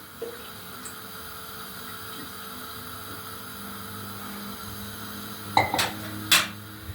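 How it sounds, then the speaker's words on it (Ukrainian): Cooking oil being poured into a honey marinade for pickled peppers: a faint, steady liquid pour over quiet kitchen background, followed by two sharp clinks close together near the end. "Додаємо нашу олійку."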